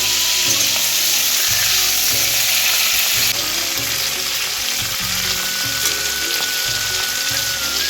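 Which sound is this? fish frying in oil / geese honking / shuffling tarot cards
fish frying in oil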